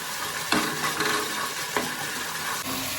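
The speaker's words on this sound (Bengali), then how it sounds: "এবার এগুলোকে খুব ভালো করে এর সাথে কষিয়ে নিলাম" Masala of spices with turmeric, Kashmiri chilli and salt being stir-fried in a pan over low to medium flame: a continuous close sizzle broken by a few scraping stirs of the spoon, with no voices.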